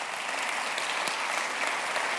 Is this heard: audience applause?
yes